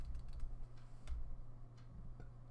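Soft clicks of a computer keyboard being typed on during a coding demonstration, faint and irregular keystrokes scattered over a quiet steady hum, with no talk.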